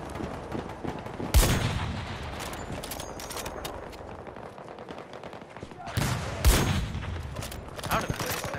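A sniper rifle in a video game fires two sharp, loud cracks several seconds apart, each with a short echoing tail, over a busy background of distant gunfire, and a voice talks.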